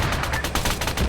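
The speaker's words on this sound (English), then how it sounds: "Now these 50 cals firing at that Kajman." .50 caliber machine guns in a military shooter game hammer out a rapid, heavy stream of shots, loud and close, firing continuously through the short burst.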